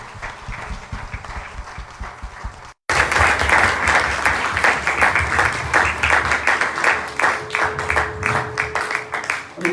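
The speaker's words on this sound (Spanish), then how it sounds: "Un aplauso al Señor" A church congregation breaks into loud, sustained applause for the Lord after a brief quieter stretch. The clapping is many-handed and dense with a pulsing rhythm, and a faint steady tone runs beneath it.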